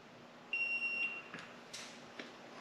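A Eufy E30 smart deadbolt lock sounds one clear electronic beep of about half a second in a quiet room, followed by a few faint clicks and handling sounds.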